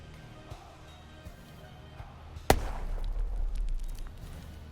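A grenade explodes in a WWII tactical strategy video game, one sharp loud blast followed by a rumbling tail, after a stretch of quieter ambient game sound.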